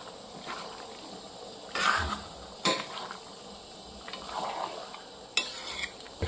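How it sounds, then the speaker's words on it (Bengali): Mutton curry being stirred around a pan, with soft scraping and a few sharp clinks of the utensil against the metal over a low frying hiss. "ভালো করে নাড়িয়ে দিতে হবে, চতুর্দিক ঘুরিয়ে দিতে হবে।"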